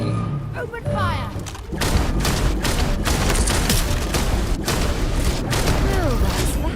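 Sustained gunfire from a firefight in the video game Starfield: dense, rapid bursts of shots and heavy booms layered over one another, loud and nearly continuous throughout.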